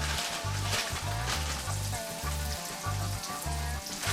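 Calf liver sizzles steadily in a hot pan, a continuous bright frying hiss at moderate volume with a pulsing low rhythmic background throughout.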